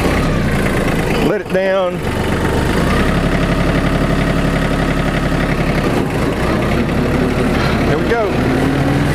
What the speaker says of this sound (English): Let me start out second gear, medium. Turn the mower on.